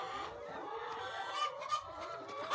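Clucking from a hen on a small poultry farm, one that seems injured after being stepped on: a steady run of nearby clucks and murmuring calls with no talk over them.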